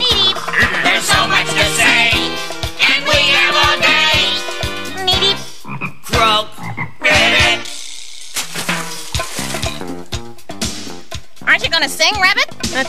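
Voices imitate frog croaks and ribbits within a sung children's song about a frog, mixed with music and singing throughout.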